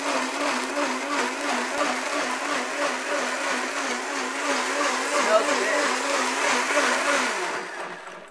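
A blender whirs steadily as it blends Irish moss with water, its motor holding an even, loud pitch throughout with no talking.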